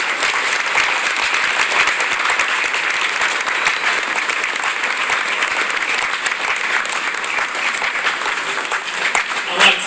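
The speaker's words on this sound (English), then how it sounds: "Give yourself a round of applause." Dense, steady applause from a high school audience fills the whole stretch, many hands clapping at an even, sustained level with no voices standing out.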